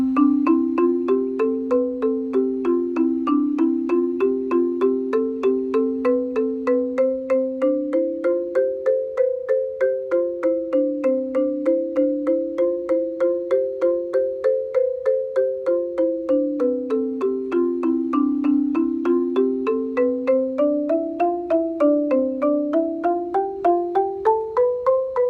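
Marimba exercise played through in full, a long steady stream of evenly struck mallet notes winding up and down, bright and close with no voices.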